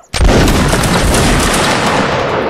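A musket volley in Mount & Blade: Napoleonic Wars erupts after a brief silence into one loud, dense burst of overlapping shots, then rolls on as a long, thick roar that slowly tapers without fading away.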